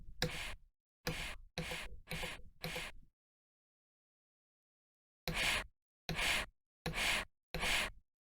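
Loud, close breaths repeat in isolation, a group of four or five sharp inhalations, a pause of silence, then four more.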